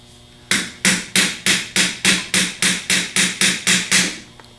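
Phillips screwdriver struck straight down onto rusted screws of a Denso internal fan, eleven evenly spaced sharp metallic taps in a quick steady rhythm, loud and close.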